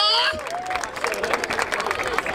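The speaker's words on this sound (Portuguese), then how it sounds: "Palmas pra essa batalha!" A crowd at a Brazilian street rap battle in Barueri breaks into applause and cheering after a voice trails off, with dense clapping, shouts and excited hubbub building over the rest.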